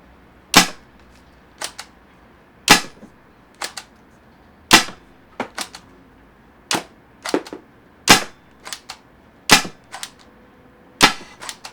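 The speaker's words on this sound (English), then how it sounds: "15 shots per CO2, not bad." Fifteen sharp, loud shots from a Tippmann Cronus CO2 paintball marker with a high-power mod firing 4-gram rubber balls, fired in quick clusters of two or three with short pauses between them.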